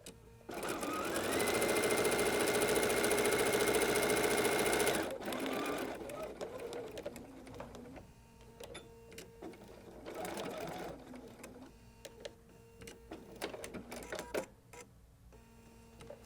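A sewing machine runs fast and loud for about four seconds while stitching a rag quilt, then stops; afterward only quiet handling of fabric and faint shuffling remain.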